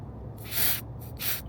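Two quick hissing bursts from a spray bottle while fitting a rear window wing on a Toyota JZX100 Mark II, close and fairly loud, separated by a short pause over a low background hum.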